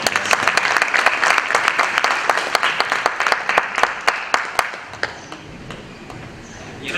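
Applause from the audience at a sales training bootcamp, loud crowd clapping with sharp individual claps standing out, thinning toward the end.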